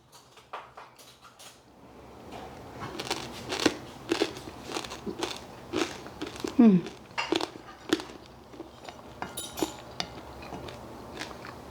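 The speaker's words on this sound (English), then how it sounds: "Let's take a bite of the pork belly." Crunchy bites into a pork belly salad, a series of crisp crackling crunches close to the mic in irregular bursts, with occasional cutlery clinks and soft chewing between them.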